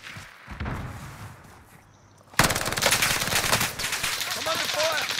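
Rapid automatic gunfire in a World War II Pacific shooter game, starting after a quieter stretch of muffled sounds and continuing as dense, loud, sustained bursts.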